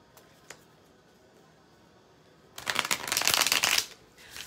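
A Marielle Tarot card deck is shuffled in one loud, close riffling burst lasting over a second, following a few quiet taps and near silence.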